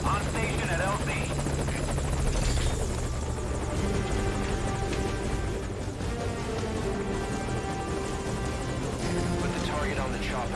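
Helicopter arriving at a landing zone in Metal Gear Solid Ground Zeroes, its heavy rotor chop and engine whine loud and continuous, with radio voices speaking over it.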